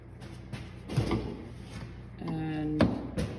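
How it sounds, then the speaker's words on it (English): A door popper tool pries up a car's windshield cowl, giving a few dry plastic scrapes and clicks, then a creaking squeal of the panel flexing and a sharp pop as a clip lets go. The sounds are close and moderate, with faint speech nearby. "she's just gonna get in there with the door popper tool and pry that up"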